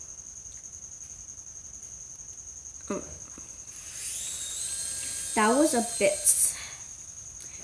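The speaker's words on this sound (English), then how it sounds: "There's like a bunch of like crickets." Crickets chirp at midnight in a continuous high, steady trill that runs throughout, with a person talking partway through.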